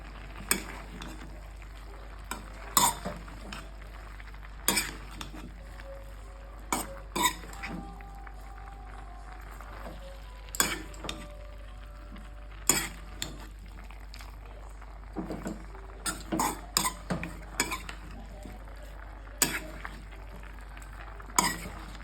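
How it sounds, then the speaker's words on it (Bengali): Vegetables with turmeric are stirred in a pan for a vegetarian curry, giving sharp intermittent scrapes and clacks of a spoon over a quiet low background, close by and without talk. "সামান্য হলুদটা দিয়ে একটু ভালো করে নেড়ে দেবো।"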